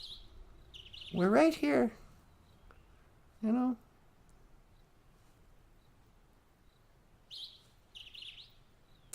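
Birds chirp outdoors with a few short, high, spaced-out calls at the start and later, while a person speaks briefly in between.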